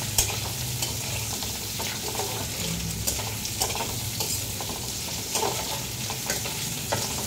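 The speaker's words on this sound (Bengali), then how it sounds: "পেঁয়াজটা দিয়ে একটু নাড়াচাড়া করে নিচ্ছি" Onions sizzle steadily in a hot pan for a mutton stew while a utensil scrapes and stirs them, with sharp clicks of the spoon against the pan over constant frying hiss, no voices.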